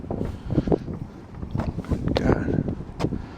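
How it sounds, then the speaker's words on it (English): Wind gusts across the exterior of a Sanibel boat outdoors, a steady rushing buffet on the microphone with some handling bumps and faint background voices throughout. "Hopefully that wind isn't too bad."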